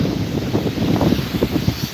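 Steady wind buffeting the microphone on a beach on Prince Edward Island, Canada, a constant low rumble with gusty swells throughout and no voices.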